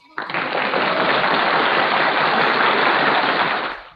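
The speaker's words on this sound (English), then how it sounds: "we're going to make sure that you get a proper send off with the applause" Studio audience applause at the close of a live sober happy hour radio broadcast, a dense, loud wash of clapping that starts abruptly and continues steadily before tapering off.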